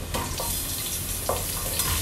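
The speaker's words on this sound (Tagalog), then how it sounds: "luto na ang ating bawang, nag-golden brown na siya. Pwede na natin ihulog ang sibuyas." Onion tipped into oil with golden-browned garlic for chicken adobo, giving a dense, continuous sizzle broken by a few brief stirring scrapes.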